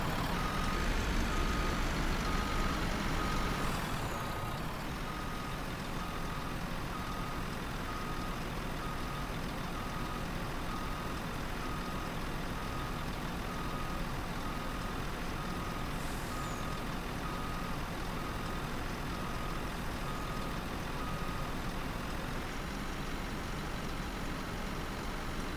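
Reversing beeps from a farm vehicle backing up in Farming Simulator 19, a steady repeating warning tone over a continuous engine drone, with no talk.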